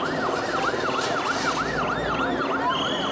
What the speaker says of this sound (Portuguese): O que foi essa ambulância que passou aí?